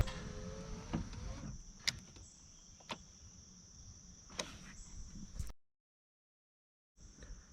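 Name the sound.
car power windows being lowered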